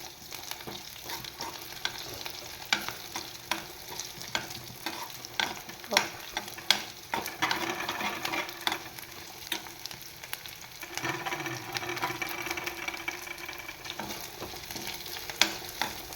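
Potatoes frying in ghee for sabudana khichdi, stirred continuously, giving a dense crackling sizzle with scraping spoon strokes against the pan, close and steady without talk.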